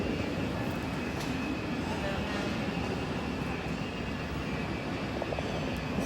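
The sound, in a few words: airplane preparing to depart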